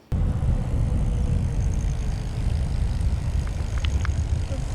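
A Jasion EB7 folding e-bike motor runs in walk-assist mode indoors. It gives a steady, close, droning hum that starts abruptly and holds evenly to the end.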